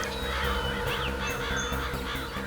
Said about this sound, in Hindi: बहुत सारे कौवे भी मंडरा रहे हैं